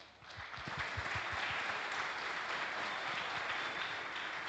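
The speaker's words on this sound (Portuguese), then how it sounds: "Solicito aqui uma salva de palmas a todos." An audience at a seminar panel on soybean seeding rates and variety positioning applauds the panelists, with dense, steady clapping that swells quickly and holds evenly.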